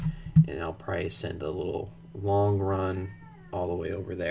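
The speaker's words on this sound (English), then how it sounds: "And that's my cat in the background." A house cat meows in the background of a room, with a couple of drawn-out cries heard faintly beneath someone speaking close to the microphone.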